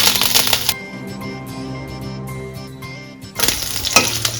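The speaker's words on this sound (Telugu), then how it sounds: "7 పచ్చిమిర్చిని కట్ చేసుకొని ఆయిల్లో వేసుకుంటున్నా. ఎల్లిపాయలు వేసుకుంటున్నా. 2 స్పూన్ల జీలకర్ర వేసుకుంటున్నా. కరివేపాకు." Green chillies, garlic, cumin seeds and curry leaves fry in hot oil for a tomato pachadi, loud sputtering crackle at the start and end with a softer sizzle in between.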